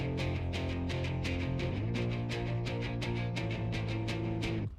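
A guitar loop and a bass loop play together in BandLab, matched in key and tempo: steady low bass notes under evenly spaced plucked guitar chords with a regular rhythmic pulse, no talking, ending in a sudden stop.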